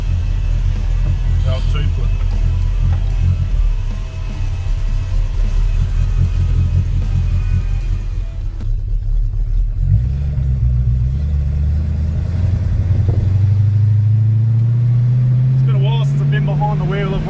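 An old pickup truck with a Ford Cleveland V8 rumbles loudly as it drives, its deep engine drone steady and close, then climbing in pitch as it accelerates near the end.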